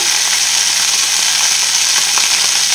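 Pricked sausages sizzle steadily in a hot pan, a loud, even crackling hiss of frying fat that continues without a break and with no talk over it.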